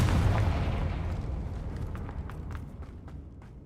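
Confringo blasting spell explosion in the Hogwarts Legacy video game, a loud boom up front that decays into a lingering rumble with scattered crackling debris.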